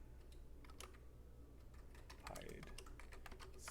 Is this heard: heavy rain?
no